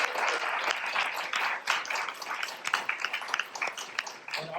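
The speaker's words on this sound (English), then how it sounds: "let's have an applause for all of our readers" Audience applause for the readers at an evening tribute event, a full room of clapping, steady at first and then thinning into more scattered, individual claps toward the end.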